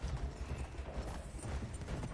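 Horse hooves clip-clop in a steady, rhythmic trot in a video game, a continuous muffled thudding pattern at moderate level, with no voices over it.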